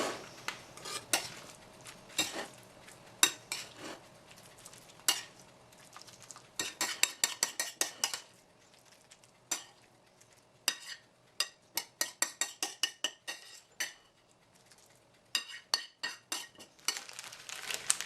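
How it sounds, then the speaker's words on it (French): Spaghetti squash mixture being spooned back into the squash shell, a spoon clinking and scraping against a dish in rapid clustered taps and scoops, close and crisp over a quiet background. "je vais réintégrer tout dans la coque de la courge"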